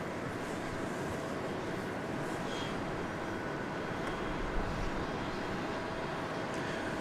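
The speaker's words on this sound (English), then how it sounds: "737-700. Flight 3641. Door set, runway 13 left, clear for takeoff." A Boeing 737-700 takes off from runway 13 left at Dallas Love Field, heard as a steady, distant broadband jet roar that holds evenly throughout without rising or falling much.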